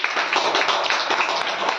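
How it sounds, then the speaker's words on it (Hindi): An audience at a home business meeting claps loudly and steadily, a dense close burst of hand claps lasting a couple of seconds. "जोरदार ताली होनी चाहिए"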